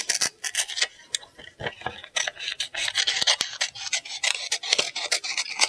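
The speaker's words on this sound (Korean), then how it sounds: "그럼 색종이를 한번 길게 잘라보겠습니다." Scissors cut long strips of double-sided coloured paper in rapid rasping snips, steady and close, with no talking.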